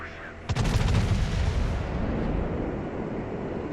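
Battleship Mutsu of the Nagato class firing a main-gun volley in World of Warships, one sudden deep boom that rolls into a long, rumbling decay.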